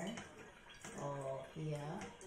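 Water is poured into a container while melon seeds are prepared in a kitchen, two short splashing pours with brief clinks in between, close and fairly quiet.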